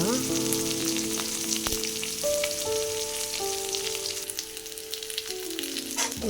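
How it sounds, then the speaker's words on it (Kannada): Chopped onions sizzle and crackle in hot oil in a pan while cooking a spicy, sour okra dish, a steady close frying hiss with scattered pops and no talking. "ಆನಿಯನ್ ಹಾಕ್ಕೊಳ್ಳೋಣ."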